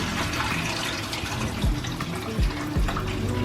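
Tap water runs steadily into a sink, rinsing parsnips, with a constant splashing hiss and a few low thumps of the vegetables being handled under the stream.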